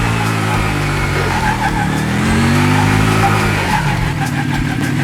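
A V-twin cruiser motorcycle engine runs steadily and rises in pitch as it revs, loud and close, with a deep continuous rumble and no voices.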